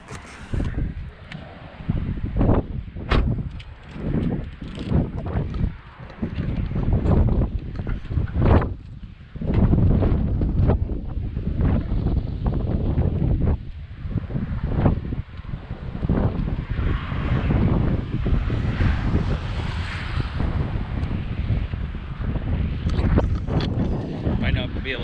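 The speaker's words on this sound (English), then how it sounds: "it's pretty windy over here" Strong wind near the Atlantic coast of Morocco, heavy low rumbling gusts battering the microphone nearly nonstop, loud and close, with a person talking over it.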